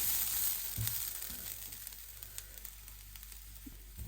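Ground spice mix dry-frying in a pan on a stove for mutton sukka, a soft steady sizzle with faint stirring scrapes, fairly quiet and close, no voices.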